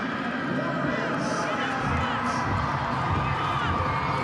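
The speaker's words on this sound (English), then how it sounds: "An impressive crowd that's gathered here on this Sunday afternoon. Kirikiriroa, they're up on their feet." A large crowd on its feet at a Sunday afternoon women's rugby league match in Kirikiriroa, Warriors against Bulldogs, a steady roaring wash of cheering and shouting heard at a distance under continuous commentary.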